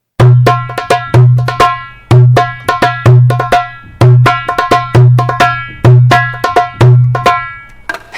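A darbuka (doumbek) plays an upgraded Maqsoum rhythm alone and up close: deep, ringing dum strokes alternate with sharp, bright taks and quick fill strokes in a steady, repeating groove.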